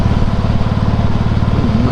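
A motorcycle engine runs close and loud in a steady, rapid low putter, with a faint rising whine near the end.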